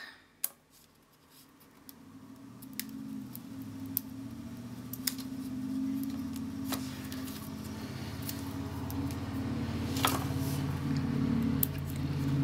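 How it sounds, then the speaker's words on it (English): Paper snips trimming paper overhang while making gift enclosure cards and a gift box, a series of sparse, sharp little cuts and clicks spaced a second or two apart over a low, steady room hum. "So you can just go through with your paper snips and just trim that off."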